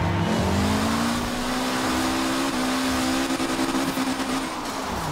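A race car engine in Forza Horizon 4 drones loudly and steadily at high revs, pitch climbing gradually through a sustained pull, with no talk over it.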